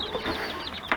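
Larger laying hens in a backyard coop give a brief burst of soft clucking and murmuring calls, close by, for about a second.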